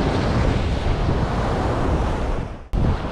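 Rough sea surf breaking hard along a Sri Lankan shore, a loud continuous roar of crashing waves mixed with gusting wind buffeting the microphone, with a brief dropout near the end before the surf returns.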